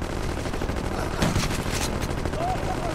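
Gunfire in the Gangsters 2 Vendetta game, a cluster of rapid sharp shots in a short burst over a steady background hum, with a few brief tonal game sounds afterward.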